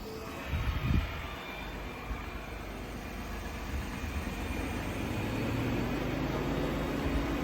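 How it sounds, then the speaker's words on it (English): High-mileage 2021 Ford F150 engine idling, heard from outside the truck: a faint, steady low hum runs throughout, with a brief thump near the start and a slight rise toward the end. "I'll let you listen to the engine from the outside."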